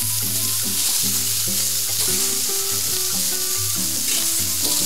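Meat and grapes fry in a pan with a loud, constant sizzle and occasional stirring scrapes, with no voices.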